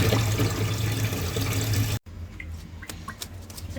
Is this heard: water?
yes